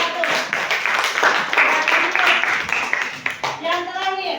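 A classroom audience claps for a presenting group, a short burst of fairly close, uneven hand clapping with voices chattering through it.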